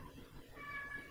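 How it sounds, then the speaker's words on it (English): A pet cat makes a short, faint meow indoors, a single brief call over a quiet room background. "That's my cat, I'm sorry."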